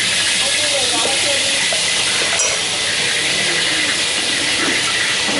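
Food sizzles and hisses steadily in a hot pan during Vietnamese stir-frying, a dense, continuous frying noise with faint clinks of utensils and a voice talking underneath.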